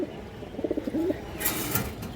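High-quality pigeons give a short run of soft, throaty coos close by, repeated in quick pulses for about a second, followed by a brief rustle of movement.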